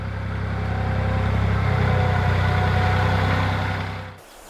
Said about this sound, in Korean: 탐스런 배를 가득 실은 트랙터 소리는 10월 말까지 아산 배나무골을 가득 채울 것입니다